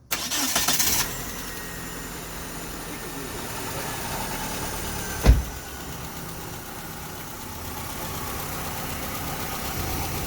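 A Mitsubishi Lancer Evolution IV Mirage conversion cranks briefly and catches, then settles into a steady, loud idle with a single sharp knock partway through.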